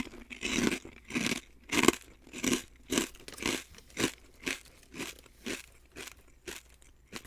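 Salt and vinegar pork rinds crunch loudly up close, bitten and chewed in a steady rhythm of about a dozen crisp bursts with brief pauses between, and no talking.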